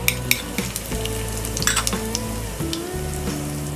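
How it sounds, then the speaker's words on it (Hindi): Cumin seeds and asafoetida sizzle loudly in hot oil, a steady close frying crackle with occasional utensil clinks, under faint background music. "तेल गरम हो गया है. अब हम इसमें डालेंगे ये ½ टीस्पून जीरा, 1/4 टीस्पून हींग,"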